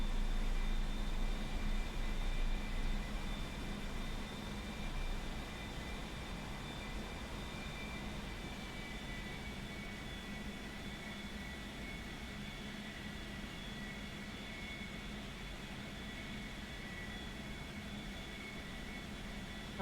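A steady aircraft engine drone in a flight video game, a continuous even roar with a faint high whine on top, loud at first and then settling slightly quieter, with no voices.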